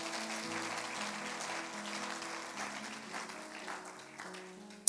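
A church congregation applauds, with broad clapping spread across the room, moderately loud and steady, over sustained organ or keyboard chords, and a brief louder burst at the end.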